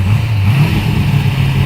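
A car revs hard and pulls away doing a dry hop, a loud, steady low engine drone with throttle surges and no voices.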